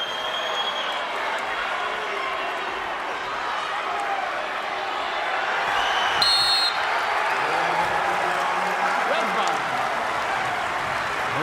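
Steady roar of a college wrestling crowd at a Rutgers versus Ohio State dual meet, with cheering and clapping sustained throughout and swelling slightly midway, a commentator talking over it.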